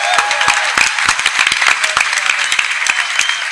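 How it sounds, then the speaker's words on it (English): Audience at a convention panel applauds a guest being introduced, loud close clapping with sharp individual claps standing out, continuous for a few seconds with little talk. "Let's give a round of applause to Chipperoo."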